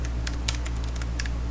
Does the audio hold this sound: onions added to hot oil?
no